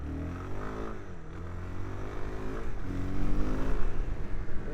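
A 2025 Suzuki DR-Z4S motorcycle accelerates around a parking lot, its engine note rising in pitch twice as the throttle opens, fairly smooth and moderately loud, with no talking.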